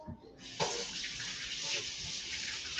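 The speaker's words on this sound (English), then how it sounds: "Excuse me while I wash the messy paws." A kitchen tap runs steadily while hands are washed under the stream, a close, continuous broadband rush of water starting abruptly and filling the clip.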